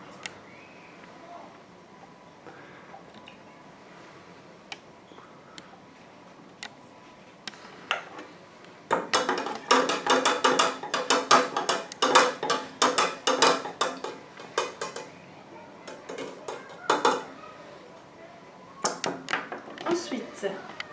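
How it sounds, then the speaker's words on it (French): Food colouring being stirred into vinegar in a glass container, a quick run of light clinking taps that starts about midway, rapid and irregular, following quieter scattered ticks, with a voice talking over it. "Pour la première étape, nous allons diluer le colorant dans le vinaigre et mélanger"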